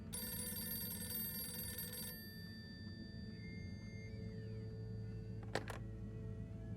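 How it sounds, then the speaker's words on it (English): A red telephone rings in the video game Harold Halibut, a bright electronic trill that sounds for about two seconds and cuts off, leaving quiet room tone with a couple of sharp clicks near the end. "Oh no, the red phone."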